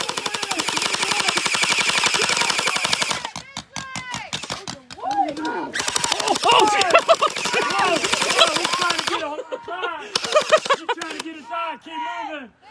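Rapid bursts of paintball marker fire rattle through a Halloween monster-hunt game at Steeltown Paintball in Pittsburgh. Loud, fast volleys stop and start, with people shouting and yelling over and between them.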